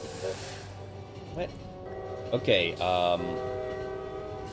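A train arriving in the video game Lobotomy Corporation, rising to a loud horn-like tonal blast with harmonic bands near the end, heard under and between brief spoken exclamations over a steady game background.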